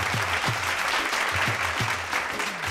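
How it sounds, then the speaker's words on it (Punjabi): Audience applause at a Punjabi singing competition semi-final, steady loud clapping from a crowd throughout, with a faint rhythmic thump beneath. "ਜ਼ੋਰਦਾਰ ਤਾੜੀਆਂ"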